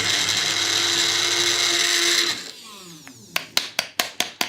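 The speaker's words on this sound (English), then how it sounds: "you can do this in the blender if you prefer the bullet" A bullet-style blender whirs loudly and steadily while mixing thick raw banoffee pie ingredients, then cuts off and gives way to a rapid series of sharp knocks as the jar is shaken to loosen the mixture.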